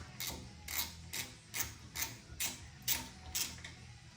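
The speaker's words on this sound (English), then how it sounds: "let's get this bolt out and see if we can get this winch apart" A hand ratchet working a bolt out of a KFI A3000 winch: about nine crisp ratcheting clicks in a steady, even rhythm, close and fairly quiet against a low background hum.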